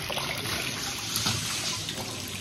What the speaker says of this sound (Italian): E le fate cadere nell'acqua.